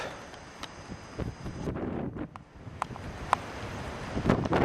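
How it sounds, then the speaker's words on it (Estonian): Wind blows outdoors across thick snow cover, a steady rushing and buffeting with gusts on the microphone, moderately loud and alone with no talk. "Natuke tuuline on"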